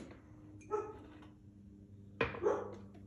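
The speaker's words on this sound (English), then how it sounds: "She does the bark." A dog indoors barks twice, a few seconds apart. The sharp, moderately loud barks stand alone against a quiet home background while a latte is being prepared.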